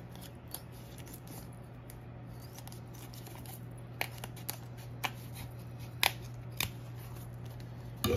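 Scissors snip yellow EVA foam while shaping a circle for a handmade spool cake stand: a quiet run of small, separate clicks and cuts, sparse at first and then more frequent, under a steady low hum, with no talking.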